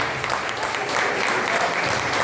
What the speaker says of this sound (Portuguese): E com bastante salva de palmas para Jesus.